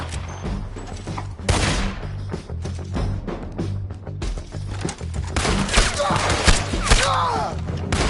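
Gunfire rings out in the video game Red Dead Redemption 2, with scattered shots and thuds mixed into busy game noise and shouting voices throughout.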